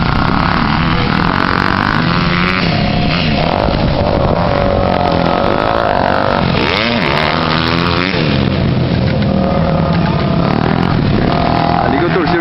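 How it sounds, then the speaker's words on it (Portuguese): A motocross motorcycle on a practice track revs hard while accelerating out of a corner, its loud, distorted engine drone rising and falling close to the microphone, with wind buffeting throughout. "Acelerando aqui na saída, viu?"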